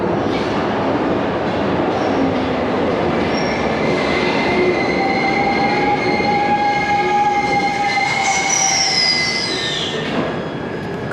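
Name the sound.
subway train arriving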